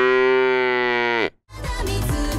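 A person imitates a cow with one long, loud, close moo that holds for over a second and then cuts off, followed by a burst of voices and noisy reaction.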